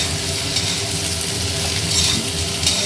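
Mixed vegetables stir-frying in a pan with spices, a loud, steady close-up sizzle and hiss with faint stirring movement underneath, no one speaking.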